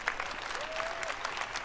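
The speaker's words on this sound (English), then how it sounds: "Let's give them all a round of applause" A crowd at the EA Play E3 2018 conference applauds game developers, a steady, somewhat distant wash of clapping with a faint tone sounding briefly through it.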